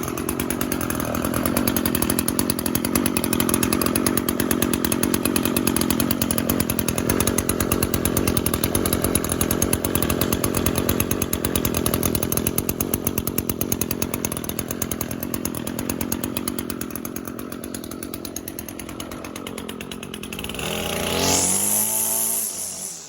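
Echo SRM 210 string trimmer two-stroke engine running at a lowered idle, a steady buzzing drone close by for most of the time, briefly revving up near the end before dying away.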